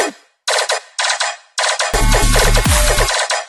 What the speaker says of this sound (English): let's add like a little radio effect,